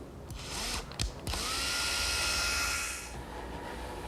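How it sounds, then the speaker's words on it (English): A power drill bores a hole into a cherry wood armrest for a rocking chair, whining steadily at moderate distance after a few short starts and clicks, then easing slightly toward the end. "I'll drill the hole"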